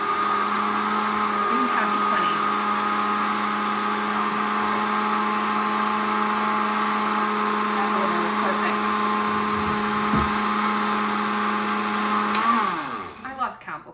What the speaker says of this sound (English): we're gonna blend this for about 20 seconds